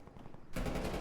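A decoy grenade in Call of Duty Cold War Prop Hunt sets off fake gunfire, a sudden loud burst of rapid machine-gun shots that cuts in after a quieter half-second and keeps rattling.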